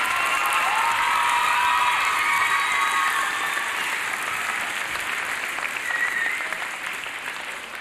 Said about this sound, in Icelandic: Við getum nú klappað betur en þetta